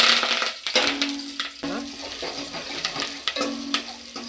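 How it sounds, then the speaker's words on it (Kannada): Onion fries in hot oil as a tempering for a Kannada-style greens sambar, a continuous soft sizzle broken by light metallic clinks and scrapes of a utensil against the pan. "ನೋಡಿ, ಈರುಳ್ಳಿ ಫ್ರೈ ಆಗಿದೆ,"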